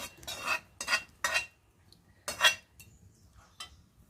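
Chopped ripe, sweet varikka jackfruit tumbles into a pan and is stirred, giving several close, short scraping clatters in quick bursts with quiet gaps between.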